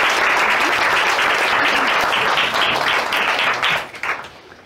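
An audience applauds speaker Graham Clucas with a burst of full, lively clapping that holds strong, then thins and tapers off in the last second.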